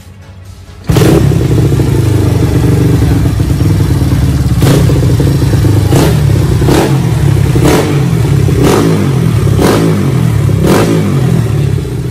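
A Honda Wave 125 motorcycle engine, built with a 62mm bore and Jet 4 carburettor jetting, starts abruptly and settles into a loud, close idle, with several sharp revs spaced out over the following seconds.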